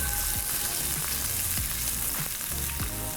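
Sliced onion, bay leaf and green cardamom frying hard in hot oil for a chicken curry, a steady loud sizzle with faint stirring scrapes, no voices.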